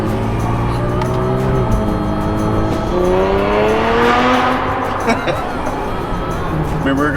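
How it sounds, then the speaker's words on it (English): Engine of a Kia Stinger GT revs up hard through quick successive gear changes, pitch climbing and dropping at each shift, loud from inside the cabin with a voice talking over it. "watch how fast these gears change"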